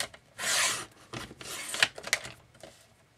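A small piece of a paper tag being trimmed at a craft table, a brief rasping scrape followed by several short cutting and rustling strokes, close and quiet.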